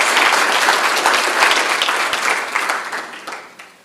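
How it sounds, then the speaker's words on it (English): An audience at a research colloquium gives a round of applause after a presentation; loud, dense clapping fills the room, then thins and fades out over the final second. "Please, let's give him another round of applause."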